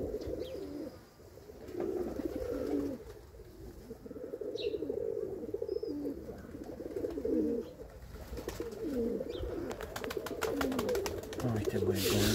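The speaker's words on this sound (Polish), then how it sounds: "Oj, te moje gołębie." Several pigeons from a keeper's flock coo steadily in low, throaty bursts, close and overlapping through the whole stretch, with a few faint chirps and brief wing or rustle noises mixed in.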